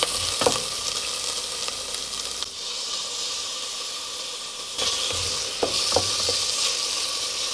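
Onion, garlic and a little chicken fry in a pan with a steady loud sizzle and hiss, broken by a few stirring scrapes and brief changes in intensity.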